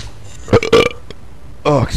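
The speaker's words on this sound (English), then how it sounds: "those Cheerios be making me burp" A loud, voiced burp bursts out in two quick pulses early on, followed by a further belch after a short pause, set in the middle of a game commentary session.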